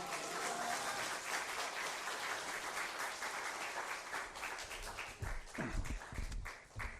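A church congregation applauds to welcome a pastor at a worship service, steady, fairly distant clapping that thins toward the end as a voice begins to speak.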